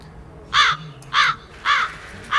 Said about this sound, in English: You can summon birds.